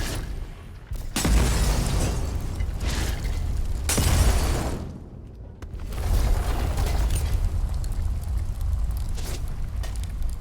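A thrown fire bomb bursting in the game Atomfall, loud whooshing booms with a roaring burst near the start and another around the middle, then a sustained rushing crackle of flames, and no talking.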